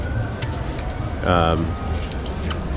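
Rain falls steadily in Venice, Italy, a constant hiss over the whole stretch with a brief voice passing partway through.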